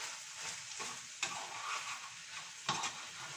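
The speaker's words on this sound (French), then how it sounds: "je tourne, je mélange un peu" Spanish-style rice with chorizo frying in a pan while being gently stirred: a steady close sizzle broken by two sharp scrapes of a utensil across the pan.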